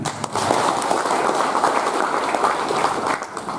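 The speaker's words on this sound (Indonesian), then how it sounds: "Semangatnya Pak Ones kita sambut dengan tepuk tangan lagi." A party congress audience in Papua Pegunungan breaks into sustained, dense applause for their chairman, many hands clapping together in a continuous roar.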